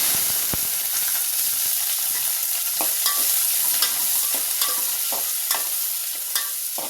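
Onions and green chillies fry in hot oil with whole garam masala, making a bright steady sizzle and hiss broken by scattered spatula taps and stirring clicks, close by and without speech.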